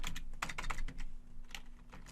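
A computer keyboard rattles with quick, close keystrokes as a terminal command is typed, dense clusters of clicks with short pauses over a faint electrical hum.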